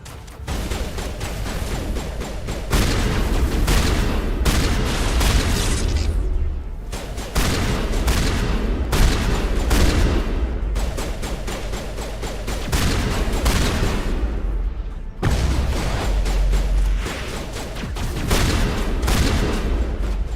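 Sustained barrage of gunfire and booming artillery in the sci-fi shooter Mass Effect, loud and dense with rapid overlapping shots and heavy impacts, briefly dropping off near seven and fifteen seconds before resuming.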